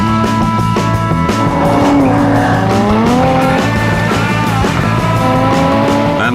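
Supercharged Jaguar F-TYPE sports car accelerating, engine pitch sweeping up and down through gear changes, loud and close with crackling, sharp exhaust bursts.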